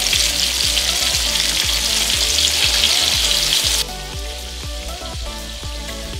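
Chicken fried deer steaks sizzle and crackle steadily in a hot frying pan, loud and close, with a thick spattering hiss that drops to a quieter sizzle partway through.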